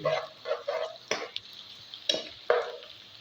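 Rohu fish curry with tomato is stirred in a pan, a short run of soft spatula scrapes and a few sharp clicks against the pan over a faint simmer.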